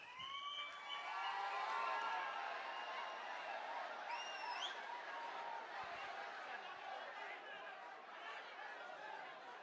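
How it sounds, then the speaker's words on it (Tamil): A faint, dense crowd sound fills a hall at a women's speech event marking the TVK third anniversary, with applause and chatter running steadily throughout and a brief whistle near the middle. "அரங்கம் நிறைந்த கைத்தட்டல்"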